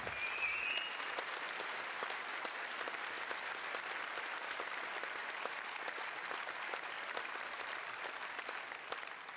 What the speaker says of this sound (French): Et on peut l'applaudir vraiment.